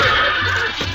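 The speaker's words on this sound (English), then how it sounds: "Richard's horse, struck by one of the arrows, lashed out in pain, upsetting the raft" In a medieval adventure radio drama, a horse neighs in pain, a loud, shrill whinny that fills the moment, close and alone.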